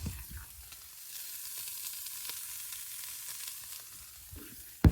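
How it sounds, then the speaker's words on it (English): Ham warming in a skillet with a spray of extra virgin olive oil gives a steady, close sizzle that holds level throughout, with a faint clatter at the start and a sharp knock at the very end. "You can hear the sizzle."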